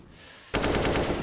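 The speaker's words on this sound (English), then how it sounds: "trying to fire back off the AK" An AK rifle firing in a CS:GO esports match, a sudden rapid burst of loud, sharp automatic shots cutting in after a quieter moment of game ambience.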